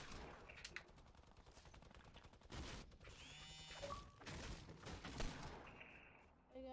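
Video game gunfire in dense rapid bursts, sharp repeated cracks with mechanical clatter and ringing effects between volleys, fairly loud and close throughout, with no speech over it.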